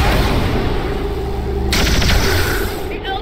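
Sustained, loud gunfire and booming blasts from the XCOM 2 video game fill the whole stretch, with a sharper burst of rapid shots in the latter half and no clear talk over it.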